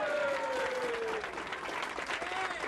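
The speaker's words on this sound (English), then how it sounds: "Both moves were greeted with applause." Several dozen supporters at a campaign event for Alabama governor candidate Emory Palmer applaud steadily, a dense wash of clapping that continues throughout, with a faint tonal hum underneath.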